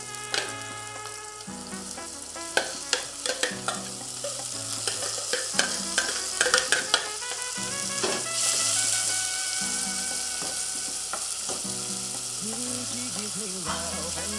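Onions and tomatoes frying in a pan while being stirred, soft steady sizzling broken by repeated scraping and clinking strokes of a utensil against the pan.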